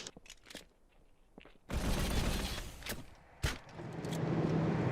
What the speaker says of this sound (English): whacked them together to make all the reload and ready sounds and stuff for this spike rifle